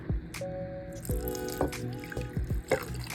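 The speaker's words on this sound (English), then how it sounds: "I'm gonna add in my can of beef broth" Canned beef broth goes into a crockpot of smothered pork chops. Close, soft liquid pouring with drips and wet splashes comes through, with a few small clinks of the can along the way.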